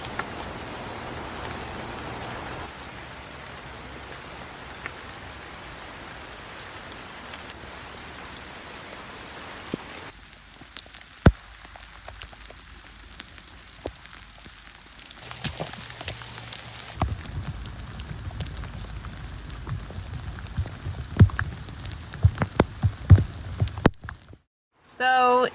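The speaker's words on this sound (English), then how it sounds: "it's raining right now" Rain falls steadily on a boat during a ride, a continuous hiss of drops with scattered heavier patters and knocks in the second half, up close, with no talking.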